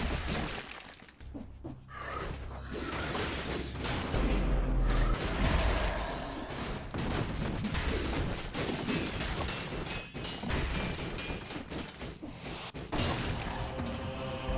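Grenades exploding in the video game Dead Cells, a rapid busy stream of crashes, shattering bursts and whooshes over game sound, loud and dense throughout.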